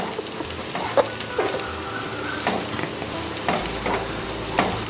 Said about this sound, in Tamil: இப்போ நம்ம மசிச்சு வச்ச சக்கரவள்ளி கிழங்கை ஆட் பண்ணிக்கலாம். இதையும் இப்போ நல்லா மிக்ஸ் பண்ணிக்கலாம்.